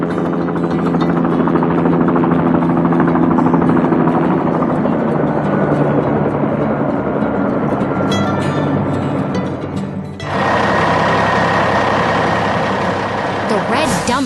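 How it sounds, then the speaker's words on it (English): A heavy red dump truck rumbles in with a droning engine, its tone shifting abruptly partway through, under a helicopter-like whir and a steady narrating voice. "The red dump truck returns, but this time it's bringing fresh materials to rebuild the station from the ground up."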